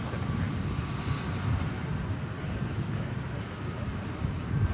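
A low, steady rumble of a jet at DFW Airport rolling for takeoff on a night runway, a dense continuous roar heard from a distance without any break.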